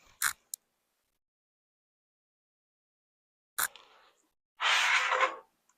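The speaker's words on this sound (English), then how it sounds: "let me cut my threads" Scissors cut quilting threads at a sewing machine, giving a couple of sharp snips that stand alone in near silence, followed by a brief rustle and one longer scraping sound.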